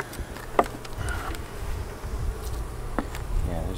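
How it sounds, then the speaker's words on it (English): Honey bees buzzing around a frame pulled from a hive, a steady low insect drone with scattered close passes and faint handling noises, no voices. "Usually when you pull out a frame like that, it's covered in bees."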